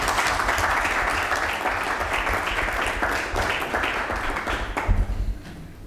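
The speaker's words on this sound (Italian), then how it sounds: "Salutiamo con un applauso François Nicolas." Audience applause at a ceremony in Soveria Mannelli, a broad, steady round of many people clapping at moderate distance that thins out and stops near the end.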